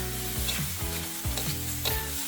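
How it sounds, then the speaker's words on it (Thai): Pork stir-fries with Thai eggplant, chilies and kaffir lime leaves in a hot pan, a steady sizzle broken by quick scraping stirs of the spatula every half second or so, with no talking. "ผัดทุกอย่างให้เข้ากันอีกทีหนึ่ง"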